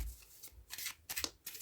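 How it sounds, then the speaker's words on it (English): A deck of tarot cards is shuffled by hand in a quiet room, giving soft, close riffling bursts that come in uneven waves with short pauses between them. "Let's shuffle again for you."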